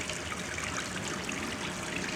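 Water runs steadily as a basin fills in the video game Gone Home, a continuous close trickling rush with no other sounds.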